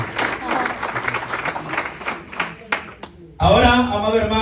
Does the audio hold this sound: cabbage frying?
no